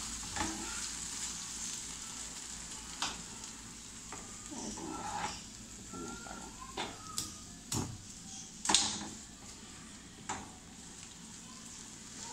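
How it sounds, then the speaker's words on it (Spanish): Eggs cook in a hot pan with a soft, quiet sizzle under scattered scrapes and taps as a utensil stirs them, several sharper clinks standing out along the way. "ya vamos a agregar los huevos. Lo vamos a revolver bien."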